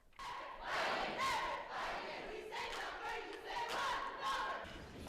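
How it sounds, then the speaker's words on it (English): Students at a high school anti-bullying rally with cheerleaders and special needs classmates, a large crowd giving sustained, swelling cheers and shouts throughout, recorded quietly from within the hall. "Lansing students cheer on classmates in the fight against bullying"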